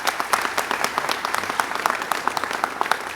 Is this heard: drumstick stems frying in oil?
no